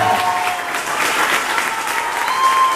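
Sustained church applause for a newly anointed deaconess, a loud, dense crowd of clapping hands holding steady throughout with a faint tone running beneath it.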